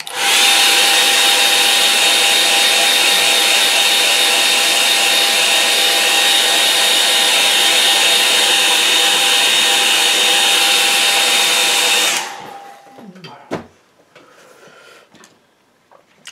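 A hair dryer blows loud and steady over a watercolour painting for about twelve seconds, then cuts off, leaving faint brush and table sounds.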